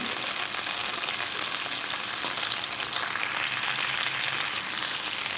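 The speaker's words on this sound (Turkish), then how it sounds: "zeytinyağını ocağa aldım ve içerisine biberlerimizi koyduk. Şöyle 1-2 dakika kavuracağız." Steady, dense sizzling of peppers and garlic frying in hot olive oil, continuous and close with no pauses or voices.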